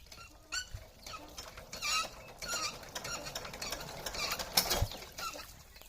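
Old sewing machine clattering and whirring in a village, with an uneven mechanical rattle and squeaks that build toward a louder burst near the end.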